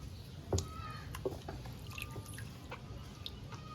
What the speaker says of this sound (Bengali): এখন আম ধুয়ে নেব, তার জন্য জল ভরে নিচ্ছি গামলায়।